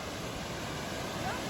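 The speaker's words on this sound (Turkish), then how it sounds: "Şelale burada." A waterfall in the deep Güver canyon near Antalya gives a steady, distant rushing roar that stays even for the whole brief moment.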